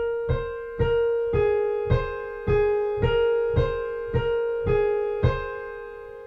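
Piano playing a passage from a piece: a steady, evenly spaced run of about a dozen struck notes over sustained ringing tones, each attack decaying into the next, close and clear with no talking.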